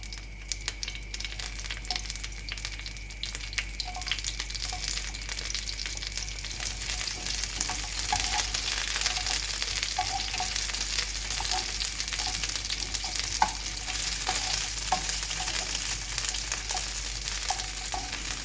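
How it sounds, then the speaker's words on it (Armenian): Asparagus sizzling and frying in a pan with oil and a little butter, a steady crackle that grows slightly louder, with occasional stirring or tapping sounds. "Ծնեբեկները տեղավորում եմ թավայի մեջ"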